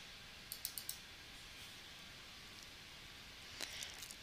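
Two quick bursts of faint computer mouse clicks, three or four sharp taps near the start and a small cluster near the end, in a quiet room with a low steady background hiss.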